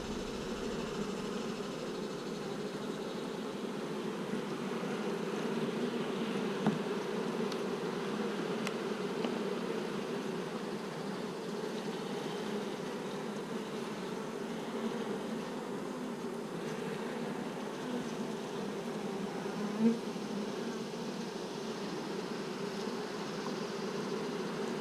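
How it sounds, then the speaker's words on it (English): Honeybees hum in a hive as young bees emerge from their cells, a steady, close, continuous buzz that stays even throughout with no voices over it. "Here's some baby bees just emerging here."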